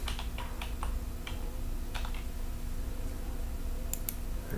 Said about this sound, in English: you can just type in the name